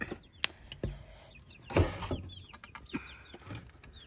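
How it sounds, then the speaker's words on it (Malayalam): Chickens cluck and chirp softly in the background, with a few scattered knocks and rustles nearby; no talking. "നമുക്ക് നമ്മുടെ കോഴി സാറന്മാരെ നോക്കാം"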